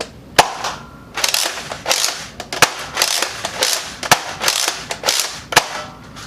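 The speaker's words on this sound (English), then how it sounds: "my second problem with this blaster is the prime. It's not very smooth and it makes a weird ratcheting sound." A Nerf Rival Phantom Corp Hades blaster is primed again and again, each rough ratcheting stroke ending in a sharp snap. The loud mechanical clacks come close together in an irregular rhythm.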